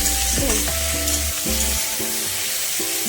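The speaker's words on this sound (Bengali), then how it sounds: "লবণ, হলুদ আর অল্প লঙ্কা গুঁড়ো দিয়ে আবার ভালো করে তোমরা ভেজে নাও" Vegetables frying in a pan with salt, turmeric and chili powder while being stirred: a steady close sizzle with stirring scrapes and clinks, and no talking.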